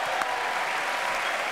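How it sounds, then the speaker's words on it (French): Television studio audience applauding during a French entertainment talk show, a dense, steady burst of clapping with no talk over it. "Applaudissements pour Michel Chevalet."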